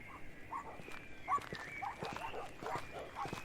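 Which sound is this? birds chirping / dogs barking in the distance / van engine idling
dogs barking in the distance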